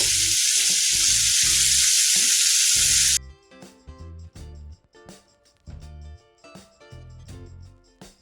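Masala-coated fish pieces shallow frying in a pan make a loud, continuous sizzle for about three seconds, which then cuts off abruptly, leaving only background music.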